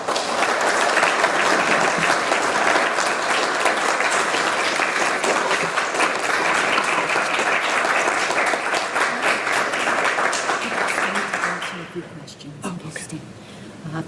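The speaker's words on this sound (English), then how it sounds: "Can we give her another round of applause, please?" An auditorium audience at an award lecture gives a long, loud, even round of applause that suddenly drops off near the end, leaving scattered claps and quiet room noise.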